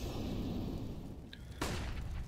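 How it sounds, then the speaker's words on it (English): A flashbang grenade detonates in a video game during a competitive esports match: a short tone, then one sharp, loud broadband burst that fades over a steady game-noise background. "Flashbang comes through."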